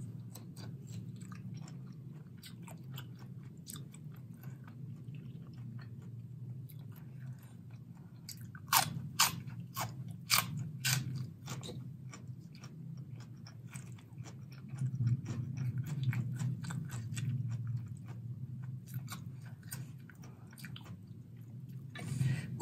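Close, quiet chewing of a crunchy Thai papaya salad with large fresh shrimp, soft crunches and bites repeating over a low background hum, with a louder burst of crisp crunching partway through.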